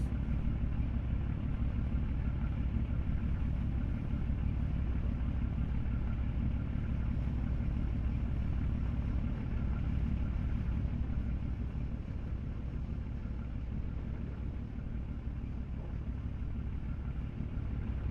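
A truck with a trailer on a steep logging site runs steadily, a low rumbling engine drone holding constant throughout with no talk over it.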